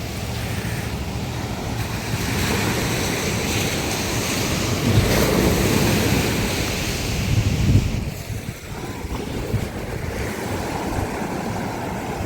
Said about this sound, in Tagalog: Isa lakas pa naman ang agos at hangin.